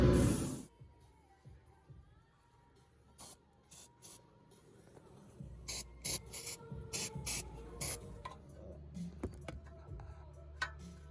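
Aerosol lubricant sprayed in short, repeated bursts onto the downpipe studs of a turbo housing on a Mk5 VW GTI, close and crisp, with small tool clicks and rustling between sprays and no talk.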